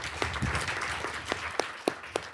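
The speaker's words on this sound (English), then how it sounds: "So we can give her a round of applause." At a school board meeting, a small crowd gives a round of applause for a new middle school principal, with scattered, uneven claps that sound fairly far off and quiet.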